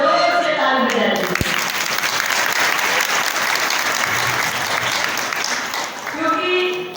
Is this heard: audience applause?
yes